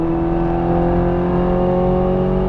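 A Ferrari F430 Scuderia engine pulls hard on a race track at Las Vegas Motor Speedway, a loud, steady, close, rising howl that holds through upshifts with no gaps.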